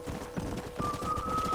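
Horse hooves clip-clop at a steady gallop during a ride in Red Dead Redemption, close and rhythmic, with a faint high tone running underneath.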